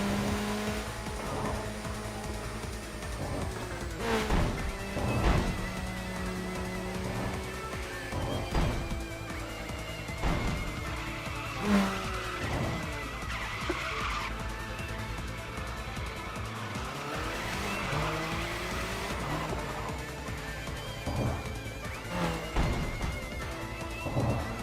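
Car tires screech and skid while a car reverses in Tokyo Xtreme Racer on the C1 highway, with the engine droning and squealing continuously for over twenty seconds as several scraping bursts rise and fall.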